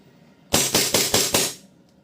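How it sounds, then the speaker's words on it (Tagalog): A KJW 1911 airsoft pistol fires five sharp, evenly spaced shots in quick succession, close and loud, with no talking. "KJW 1911. Firing."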